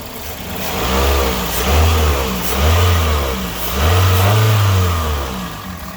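A 2004 Pontiac Vibe, a Toyota Matrix clone, runs close by with its engine rising and falling through three or four revs over a steady idle, with no talking.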